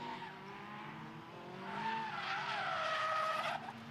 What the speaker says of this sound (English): Oh, it sounds like someone's had a spin.